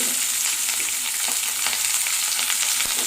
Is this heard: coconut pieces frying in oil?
yes